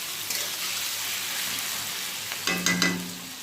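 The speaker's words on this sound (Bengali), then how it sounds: "পেঁয়াজটা ভেজে নেব" Onion sizzles and fries in a pan for a home-cooked Bengali mutton curry, a steady broadband hiss throughout, with a louder burst of spitting and stirring near the end.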